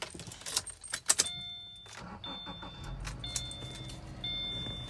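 A 2014 Subaru Forester engine starts after a brief jingle of keys, then settles into a low, steady idle heard close up inside the cabin.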